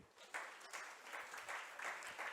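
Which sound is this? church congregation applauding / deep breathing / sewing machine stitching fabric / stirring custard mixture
church congregation applauding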